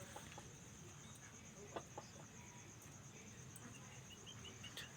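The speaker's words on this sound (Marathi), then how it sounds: "इथे पण मस्तपैकी असे कोंबडे बसलेले आहेत" Roosters and chickens settled in a poultry shed give faint scattered clucks and soft calls over a quiet hum, with a steady high insect-like whine and no talk.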